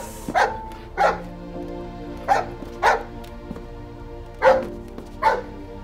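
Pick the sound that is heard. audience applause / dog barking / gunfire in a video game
dog barking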